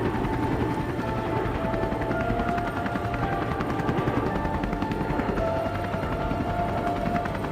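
An animated story's helicopter flies overhead with a steady, dense rotor drone and rapid chopping pulses, loud and continuous throughout with no voices.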